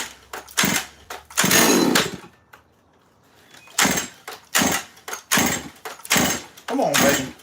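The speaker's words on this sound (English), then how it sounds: "let me get this saw started" A chainsaw being started, repeated sharp pull-cord bursts with short gaps and one longer pause, close and loud, some bursts briefly catching into engine noise.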